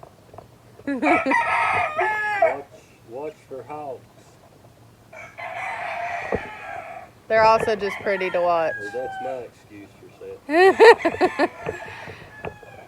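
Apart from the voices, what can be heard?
chickens clucking and rooster crowing on farm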